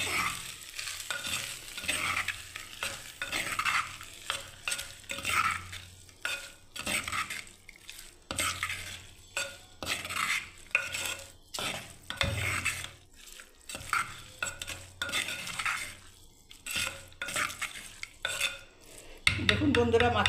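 Curd rice being mixed by hand with its added ingredients, producing soft, irregular squelching and stirring sounds close by, coming in uneven bursts with brief pauses.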